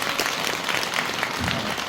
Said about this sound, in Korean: 박수 한번 쳐드리세요.